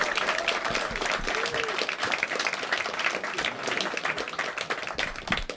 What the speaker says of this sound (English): Start the round of applause. Start the whooping, start cheering.